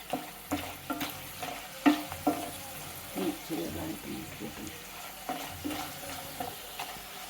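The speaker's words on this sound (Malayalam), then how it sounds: "ഇത് നമുക്ക് വറുത്തെടുക്കാം കളറായിട്ടുണ്ട് നമുക്കിനി ഒന്ന് ഇളക്കിയിടാം" Snack pieces sizzle in hot oil while a utensil stirs them, giving irregular scraping knocks over the continuous frying hiss.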